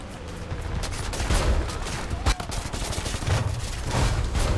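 Heavy gunfire in War Thunder from a T77E1 with four .50 caliber machine guns, dense overlapping bursts of rapid shots that run loud and steady throughout, with a sharp louder crack near the middle.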